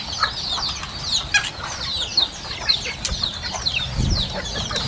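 Newly hatched chicks cheep in a dense high-pitched chorus among clucking chickens, with a soft rustle and a brief flutter near the end, all close by.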